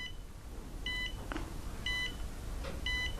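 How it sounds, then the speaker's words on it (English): A Flysky FS-ST8 radio-control transmitter sounds its timer alarm: three short electronic beeps, each a doubled chirp, repeating at roughly one-second intervals over a steady background hiss, close and clear, with no talking. "and I've got my alarm going."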